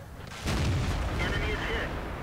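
Cannon shot from an M46 Patton medium tank in a tank battle video game, a single loud, close boom that sets in abruptly and rolls on as a sustained rumble.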